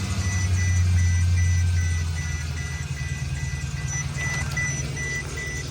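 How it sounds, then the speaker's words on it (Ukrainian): A Mercedes-Benz S550 W221 engine cold-starts, cranking and catching, then settles into a rough, loud idle, with a faint high squeal from the pulleys over the running engine. "давайте запустимо холодний запуск."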